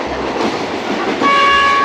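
Third-class train in Cambodia heading to Phnom Penh through rice fields: loud rolling rumble of the carriage, then a sustained horn blast joins near the end, close and dominant with no talk.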